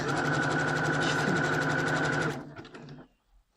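Domestic sewing machine running steadily while stitching jersey fabric for knit underwear, a continuous close whirring hum for over two seconds before slowing and stopping, no talk.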